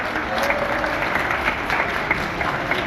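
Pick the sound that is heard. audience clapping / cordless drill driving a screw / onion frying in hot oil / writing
audience clapping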